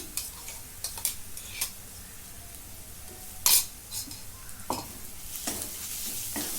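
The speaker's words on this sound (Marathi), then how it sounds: "आता याच्यात लसूण खोबरं आणि कोथिंबीर त्याचं वाटण टाकून देते" A paste of garlic, coconut and coriander sautéed with browned onion in a pan: a low sizzle under scattered spoon scrapes and clinks against the metal, with one sharper clatter midway, close and fairly quiet.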